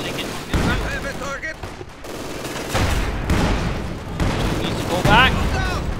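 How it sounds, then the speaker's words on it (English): Field gun artillery barrage in the strategy game Company of Heroes 2, a continuous roll of booming blasts and gunfire, loud and dense throughout, with a voice talking over it. "And a barrage return there from Raptor's field gun."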